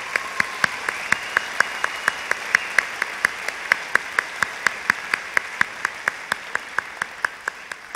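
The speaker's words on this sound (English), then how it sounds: "How about a big round of applause?" Audience applause at a school Veterans Day program in a gym or hall, steady clapping with sharp, evenly spaced individual claps standing out above the crowd's wash for the whole stretch.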